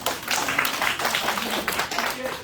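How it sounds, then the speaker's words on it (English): A group claps together in a lively burst of applause, with voices mixing in under the clapping. "give yourself a round of applause"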